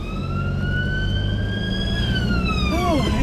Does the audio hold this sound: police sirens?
yes